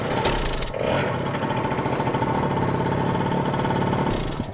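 A 1970 BSA Ariel 3 moped engine starts and runs steadily, a close, loud, continuous buzzing mechanical drone with no talk over it.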